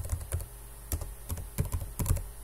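Typing on a computer keyboard, heard as short, irregular bursts of close, crisp key clicks with no talk.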